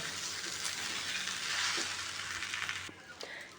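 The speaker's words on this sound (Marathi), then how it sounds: "आता हा शेंगदाण्याचं कुट केलेलं आपण यामध्ये ॲड करूया आणि त्याला एक मिनिटभर असं व्यवस्थित मिक्स करून घेऊया" Okra masala with crushed peanuts sizzling steadily in a frying pan while a spatula stirs and scrapes through it, close and continuous with a few clicks near the end, no talking.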